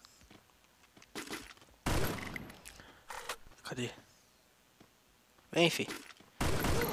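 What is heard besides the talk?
gunfire in a Free Fire mobile shooter video game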